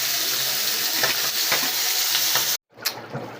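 Singi fish sizzles and fries in a pan with raw tomato and potato while a utensil stirs it in scraping strokes. The steady, close hiss stops abruptly near the end, then resumes more quietly.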